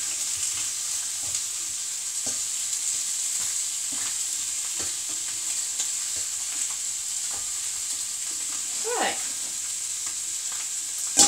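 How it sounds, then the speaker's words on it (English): Steady frying sizzle of browning chicken and sausage in a pan for jambalaya, a constant hiss with occasional utensil scrapes and stirring clatter, no talking. "So my chicken and my sausage is all nicely sizzling and browned"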